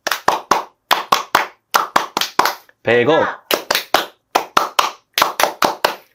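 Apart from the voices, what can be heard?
calm hand clapping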